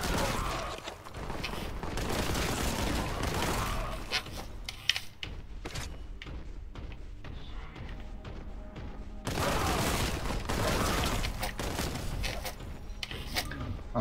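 Gunfire in Warhammer 40,000: Boltgun, with barrels being shot near enemies: loud, sustained rapid shooting that thins to scattered shots mid-way before the heavy barrage returns.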